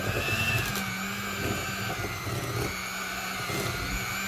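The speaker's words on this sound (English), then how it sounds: "my electric mixer is just wild" An electric mixer whirs steadily and loudly through spinach puff filling, a constant motor hum with slight rises and dips in pitch as it churns, running alone without talk.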